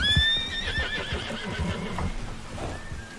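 A horse in a video game lets out a loud, close whinny, its high wavering neigh rising over clip-clopping hooves and game background noise.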